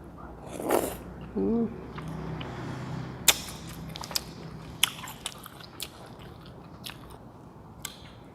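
Someone eating crispy pork noodle soup with blood, tofu and offal, with close biting, crunching and wet chewing sounds and a few sharp clicks, after a brief voice near the start.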